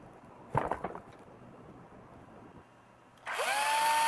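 A brief rattling burst comes first, then a pause, then a cordless drill converted from NiCd to 18650 lithium-ion batteries whirs up and runs steadily at high speed, close and fairly loud.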